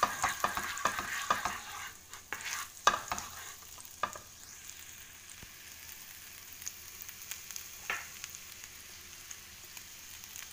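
Prawns in tomato sauce being stir-fried in a pan: a quiet sizzle runs throughout, with a burst of sharp scraping and clattering stirring strokes early on, then sparser taps, no talking.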